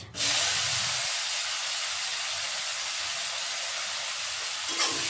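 Chopped onion dropped into hot oil while cooking Bagda shrimp malai curry, bursting into a loud, steady, broadband hiss and sizzle that holds for several seconds without any talking.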